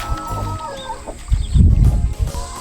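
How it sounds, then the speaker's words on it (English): Older farm chickens cluck and squawk close by in a few short bursts, with a louder flurry of calls in the middle, heard without any talk. "These are a lot of our older chickens."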